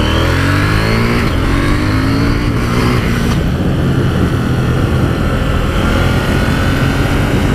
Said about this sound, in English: the note out of the exhaust really is quite nice